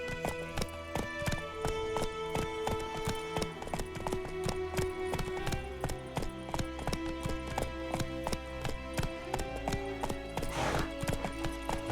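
Horse galloping in The Witcher 3, a steady rapid clip-clop of hooves running without pause, loud and close, with an occasional whinny and a brief rushing swell near the end.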